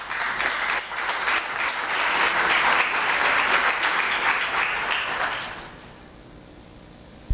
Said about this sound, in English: Round of applause again for all speakers,